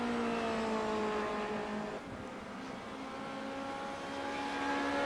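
Race car engine in the iRacing sim at Silverstone, a sustained high droning whine that shifts pitch as it dips and climbs through a corner, with no talking.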